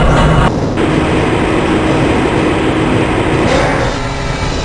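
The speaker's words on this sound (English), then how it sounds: "This train is inbound from the Area 8 topside dormitories to the Central Transit Hub in Area 9." A Black Mesa transit train rolls along its track in the video game Half-Life: Blue Shift, a loud, continuous rumble and hum with a faint rhythmic rattle. It stays close and steady throughout.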